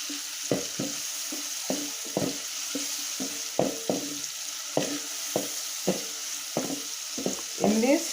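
Butter and onions fry in a pan for spicy cabbage fried rice, with steady sizzling under a regular run of scraping stirs roughly every half second, close and moderately loud.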